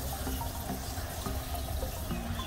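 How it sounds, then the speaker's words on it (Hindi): Water pours steadily from a hose or can onto bonsai trees in a garden, a continuous soft splashing and trickling close by. "I'm just watering it fully, deeply"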